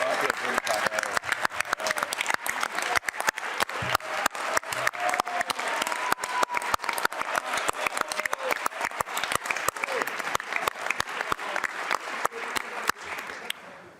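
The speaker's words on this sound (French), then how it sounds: "bravo, on va applaudir pareil." Members of the National Assembly of Québec applaud in the chamber, a sustained burst of many hands clapping with distinct sharp claps throughout, fading off at the end.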